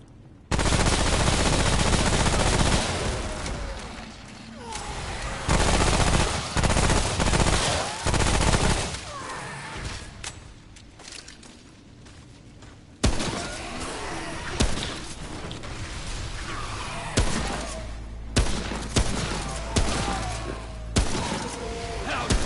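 Heavy automatic gunfire blasts in the video game Remnant: From the Ashes, loud sustained bursts of rapid shots with impacts and breaking sounds, some quieter stretches, and a voice speaking at times underneath.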